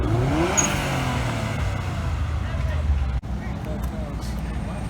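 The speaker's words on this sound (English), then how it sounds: "And of course they're gonna start revving." Cars at a car meet, including a white Subaru BRZ, with a loud engine rumble and revving close by under a babble of voices from the crowd.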